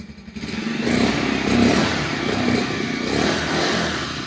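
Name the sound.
Bajaj Pulsar 125 motorcycle engine revving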